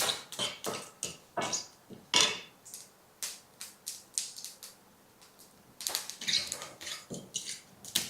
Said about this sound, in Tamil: இந்த கடுகு நல்லா பொரிஞ்சிக்கிட்டு இருக்க நேரம்